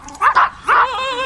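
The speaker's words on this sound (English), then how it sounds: "You don't put the dogs on us." Dogs give loud, close barks and yips in two quick bursts, then a high whine trails off, in a comedy sketch.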